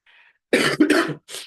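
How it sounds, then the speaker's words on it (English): A few harsh, close coughs in quick succession, with short pauses between them. "I'm having cough and catarrh."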